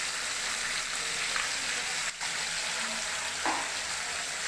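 Brinjal and beans mixed vegetables with turmeric and salt fry in a pan for a Bengali village-style lunch, giving a steady, even sizzle close by with a few faint scrapes of stirring and no talk.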